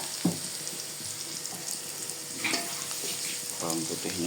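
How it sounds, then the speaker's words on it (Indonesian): Garlic frying in a pan while cooking sambal goreng with tofu and tempeh, a steady close sizzle running throughout with a few clinks and stirring scrapes, no talking. "bawang putihnya digoreng"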